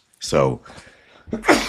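One person sneezes loudly and close up, and a voice speaks right after.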